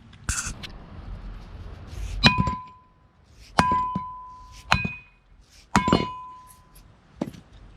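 Several sharp metallic hammer strikes ring out on a pickup's brake rotor during a wheel bearing job on an LSA supercharged truck, spaced unevenly with clear ringing decay between blows, close and fairly quiet otherwise.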